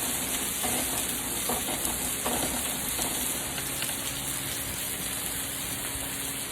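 Salmon frying in a pan gives a steady, even sizzle that hisses throughout, with faint stirring or shifting sounds and no talking.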